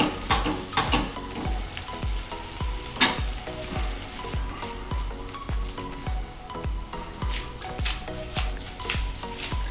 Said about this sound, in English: Toss the pasta very well so that it combines itself and it takes the flavor of all the cheese